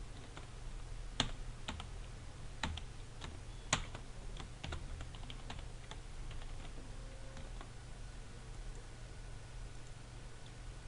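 Keys click on a computer keyboard in irregular bursts of typing, quiet and close over a low steady hum, with a few sharper keystrokes standing out and no speech.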